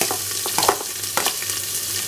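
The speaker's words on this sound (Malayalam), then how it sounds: "അതും ഒന്ന് ഫ്രൈ എടുക്കുമല്ല, ഫ്രൈ ചെയ്ത് തന്നെയാണ് നമ്മൾ ഉണ്ടാക്കുന്നത്" Onions and cashews fry in hot oil in a pan while a spoon stirs them, giving a steady close sizzle broken by scraping stir clicks, with no talking.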